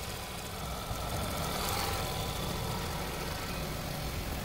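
Seat Ibiza 1.2 TSI engine idling with a steady, even hum and faint rattle, continuous and close, with no talk over it.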